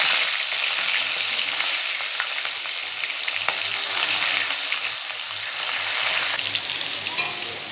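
Fish fries in a pan with a loud, close, unbroken sizzle and crackle, marked by faint ticks of spattering oil throughout.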